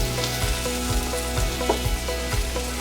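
Mushrooms and shallots sizzling steadily in a pan for chicken Marsala, a continuous close frying hiss with small pops and crackles scattered throughout, no voices.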